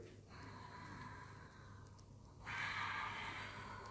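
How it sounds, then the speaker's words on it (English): A person exhales audibly while doing a Contrology (Pilates-style) exercise, a breathy rushing outbreath that grows louder and stronger partway through, alone and close to the mic. "hear yourself breathing out from here."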